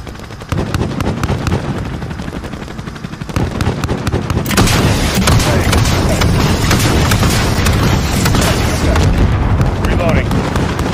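Heavy airstrike explosions and rapid gunfire boom loudly in a Call of Duty: Modern Warfare battle, dense and continuous with radio chatter from soldiers heard through the noise.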